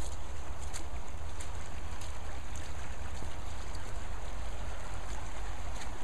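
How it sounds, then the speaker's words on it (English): A constant rushing river flow, close and loud, with a low rumble underneath and no voices. "I love the sound of the river."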